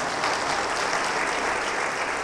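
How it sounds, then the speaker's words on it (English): A church congregation claps along during a guitar-accompanied song performance, the sound a steady, dense wash of many hands beating together without pause. "I think we need a little bit of clapping though."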